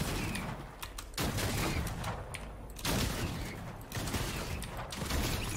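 Bursts of rapid gunfire in a first-person shooter video game, coming in several loud volleys separated by short pauses, with no voices.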